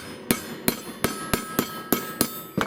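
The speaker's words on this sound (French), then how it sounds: "C'est sûr qu'il y a le coup de pointeau, il y a le coup de marteau." Hammer striking metal with a centre punch, seven sharp evenly spaced blows about every third of a second, loud and close with no talk.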